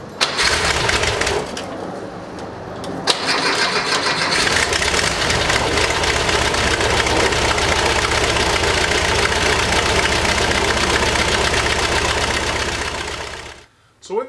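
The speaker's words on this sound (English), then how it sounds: "Let's try for the first start with all the air cleaner and carburetor preheat and everything." An old Volkswagen Thing air-cooled engine runs with its oil bath air cleaner and carburetor preheat fitted, starting and settling into a steady, loud idle with a rattling, knocking texture for several seconds before cutting off abruptly.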